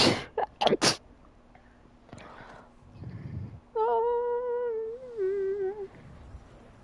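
A burst of several sharp, loud sneezes in quick succession, close by, followed by quieter rustling and a sustained tonal sound.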